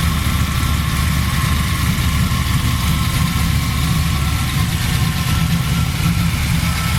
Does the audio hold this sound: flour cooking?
no